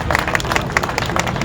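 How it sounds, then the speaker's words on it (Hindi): Audience applause at a charitable trust gathering in Ballabgarh, Faridabad, a lively burst of many hands clapping close by, with sharp individual claps standing out over the crowd and no talking. "बजाओ तालियां।"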